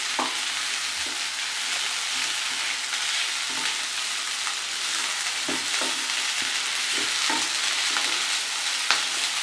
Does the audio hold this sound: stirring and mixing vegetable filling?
yes